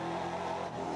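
Onboard engine of race car number 7 at a Tours Motor Show circuit round, a loud, steady high-revving drone with sustained tonal harmonics, heard close and alone.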